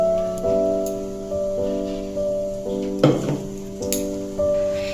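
Spices being added to onions frying in mustard oil for a chicken kosha curry, the steady sizzle carrying tonal ringing from the pan, with a louder burst of crackling partway through as the spices hit the hot oil.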